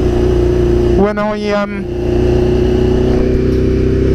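A BMW S1000RR sport motorcycle, its engine management light on, runs with a loud, steady, close engine drone throughout; someone speaks briefly over it partway through.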